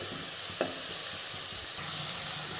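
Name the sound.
frying ginger garlic paste in a pan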